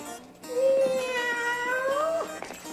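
A cartoon cat lets out a drawn-out, wavering meow that rises and bends in pitch, loud and close, lasting a couple of seconds against a light background.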